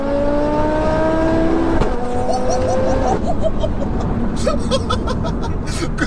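A modified turbocharged Audi RS3 engine accelerates hard, its loud rising whine climbing steadily for a few seconds before turning into a broader, rougher roar, while nearby voices react and laugh.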